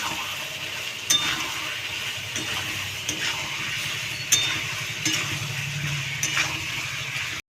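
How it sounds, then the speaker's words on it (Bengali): Potato, papaya and chopped tomato sauté in a pan with a steady sizzle. A spoon clinks against the metal about once a second as it stirs. "আলু পেঁপে টমেটো কুচি দিয়ে ভালো করে কষিয়ে নেব"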